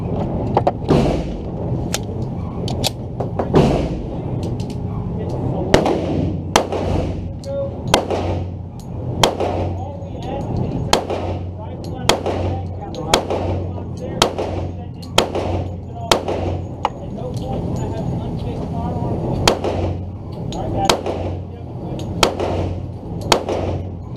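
A Polymer80 pistol fires a long string of sharp, loud shots at a steady, uneven rhythm, each crack ringing briefly, with people talking between the shots.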